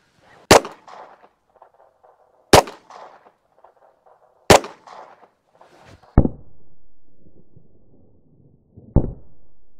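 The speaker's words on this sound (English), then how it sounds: "Three rounds out of my Ruger Mark IV Standard." Three sharp, loud gunshots from a Ruger Mark IV Standard pistol fired into a 3A vest test setup, evenly spaced about two seconds apart, followed by two further impact-like cracks with quiet gaps between.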